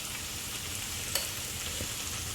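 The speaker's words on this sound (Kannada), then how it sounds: "ಸ್ವಲ್ಪ ಎಲ್ಲ ಮಿಕ್ಸ್ ಮಾಡಿಕೊಂಡು ಟೊಮೆಟೊ ಸ್ವಲ್ಪ ಸ್ಟೀಮ್ ಆಗೋ ತನಕ ಫ್ರೈ ಮಾಡ್ಕೊಳ್ಳೋಣ" Chopped tomatoes and a pinch of turmeric powder frying in a pan, a steady close sizzle and crackle throughout with a faint clink of stirring.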